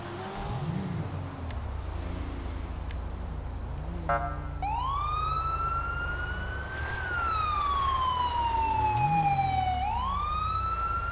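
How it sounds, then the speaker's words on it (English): Siren of a CHP Dodge Charger police car in the video game GTA V, loud and close, wailing up and down in long sweeping cycles over a constant engine rumble. "this CHP charger works a lot better, the siren works a lot better"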